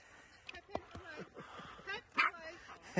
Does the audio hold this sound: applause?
no